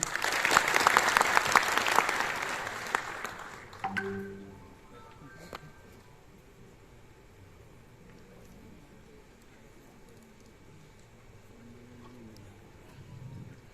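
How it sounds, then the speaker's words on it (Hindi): Audience in an auditorium applauding to welcome the West Champaran district magistrate, a burst of clapping lasting about four seconds and fading into quiet room noise with faint voices. "हम सभी लोग पुनः एक बार सर का ताली बजाकर स्वागत करें"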